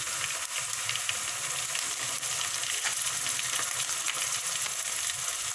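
Ginger garlic paste sizzling in a hot pan with fried mutton, a loud, steady, crackling hiss with faint stirring scrapes and no talk.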